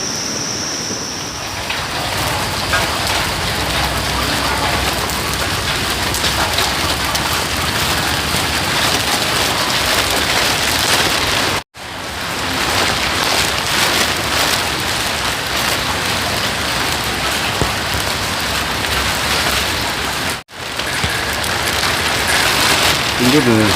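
Steady, heavy rain hisses continuously across the whole stretch, broken only by two brief cutouts.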